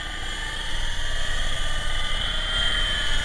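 An MJX T640 RC helicopter flies outdoors in a field, its rotor and motor giving a steady, close whirring drone with a constant pitched whine that holds throughout.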